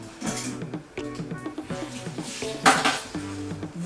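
Close, bright clinks and clatters of a plate and spoon while washing up in a home kitchen, bursts of ringing knocks repeating over a few seconds.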